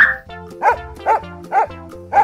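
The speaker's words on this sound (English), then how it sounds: "Dog." A cartoon dog in the Paint Animals video game barks four times in a steady rhythm, each bark loud and close over a soft, continuous game music backing.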